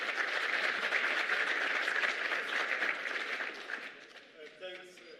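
An audience at a climate resilience symposium applauds as a deputy finance minister walks to the stage, dense clapping from many hands that holds steady, then thins and fades as a voice begins speaking at the end.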